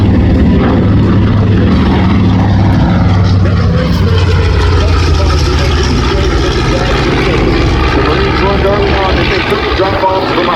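B-25 propeller bomber flying at the Wings over Houston airshow, a loud continuous engine drone with a low prop hum as it passes, while an announcer talks over it.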